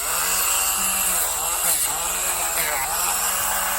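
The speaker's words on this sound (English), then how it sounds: "I take two thumbs, so they're connected, and I press the Dremel in it." A Dremel rotary tool grinds down a dog's nail, giving a steady, close buzzing whine that holds at an even loudness for the whole stretch with small shifts in pitch as the bit is pressed in.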